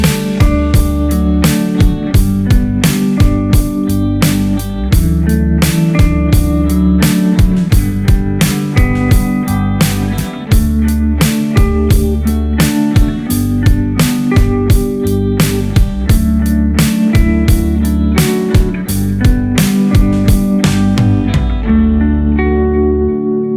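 Electric guitar plays a triad chord example, moving through inversions of chords in a steady rhythm with reverb and echo effects; each chord is struck clearly and rings out, and the last one fades at the end.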